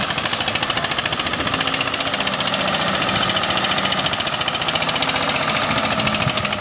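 A John Deere or Eicher tractor stuck in mud, its diesel engine labouring loud and close with a steady knocking chug that holds throughout, straining without letting up.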